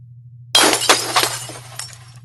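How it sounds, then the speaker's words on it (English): A glass smashing sound effect bursts in suddenly after silence, a loud close crash followed by scattered tinkling shards that fade out, over a faint low hum. "Smashing glass or breaking glass?"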